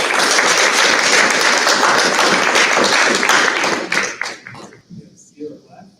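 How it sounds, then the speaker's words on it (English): Loud, dense audience applause at a high school performing arts banquet, sustained clapping that fills the room for about four seconds before breaking up into scattered claps and a few faint voices. "Applause for this."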